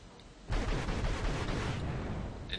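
An Aardvark bomber in a video game makes its bombing run, a sudden loud rushing roar that swells in and holds as a dense, rumbling wall of noise.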